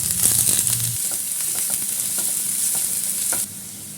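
Mustard seeds, chopped onion and ginger frying in coconut oil for broccoli thoran, a loud close hiss with rapid stirring scrapes and small crackles, easing down sharply near the end, no talking.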